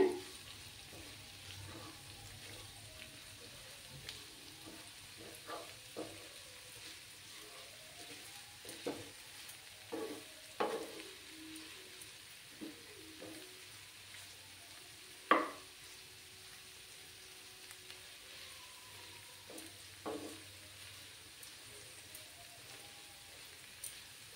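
Dried shrimp frying over a low gas flame for a crispy finish, giving a faint, steady sizzle with scattered crackles and occasional louder pops, close and quiet with no voices.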